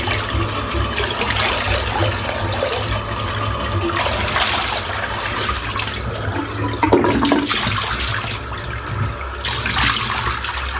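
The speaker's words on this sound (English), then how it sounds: "Right, get this all rinsed out," Warm water runs steadily from a tap into a sink for a post-shave rinse, a loud, continuous close-up rush with slight splashing changes and no voices.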